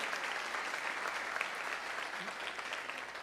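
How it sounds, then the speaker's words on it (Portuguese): A church congregation applauds during a worship service, dense sustained clapping filling the space at an even level throughout, with no one speaking over it. "aplauda ao Senhor, porque Ele é digno"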